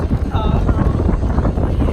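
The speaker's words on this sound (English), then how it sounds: "It's nice and windy out here." Steady wind buffeting the microphone in a low, continuous rumble, with faint voices in the background throughout.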